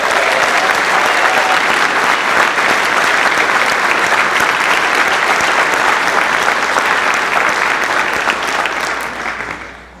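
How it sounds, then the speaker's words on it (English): A crowd at a hometown Avenue of Heroes banner ceremony breaks into loud, sustained applause that holds for several seconds and then tapers off at the end. "Would you all please join me in a round of applause?"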